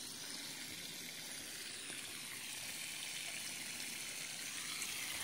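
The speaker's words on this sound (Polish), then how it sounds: "woda już się leje" Water pours steadily in a constant, rushing trickle while planting a hedge, fairly soft and close, with no other sounds or voices.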